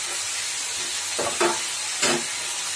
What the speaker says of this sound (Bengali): কিছুক্ষণ ভাজা হতে দিতে হবে।